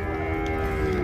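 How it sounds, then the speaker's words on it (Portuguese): A cow at a cattle market in Ouricuri, Pernambuco gives a single sustained low moo, near and steady, with no talk over it. "Mas como é que tá essas vacas aqui, João Vitor?"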